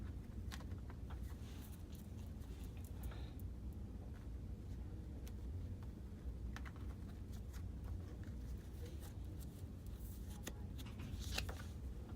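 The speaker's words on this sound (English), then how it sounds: "let's go on and cut the deck" A deck of tarot cards is cut and shuffled, with soft, repeated papery riffles and taps over a low, continuous background rumble, fairly quiet and close.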